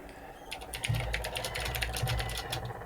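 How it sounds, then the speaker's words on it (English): Rapid clattery keystrokes on a computer keyboard, loud and close to the microphone, forming a dense uneven burst of clicks that runs for a few seconds without speech. "Is my keyboard too loud?"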